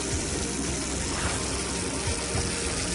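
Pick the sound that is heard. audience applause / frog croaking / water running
water running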